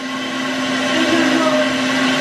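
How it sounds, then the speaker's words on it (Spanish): A blender grinding chili runs steadily at high speed, a whirring motor drone with a constant hum, close and loud throughout. "Ya vieron que Mateo solamente le pasa andar en la licuadora."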